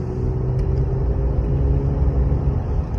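A Pontiac G8 with a V6 engine accelerates in a light pull, a steady low engine rumble and road noise heard from inside the car, loud and continuous without any talk.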